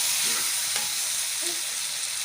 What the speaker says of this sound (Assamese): এতিয়া মই এইখিনি অলপমান ভাজি লওঁ।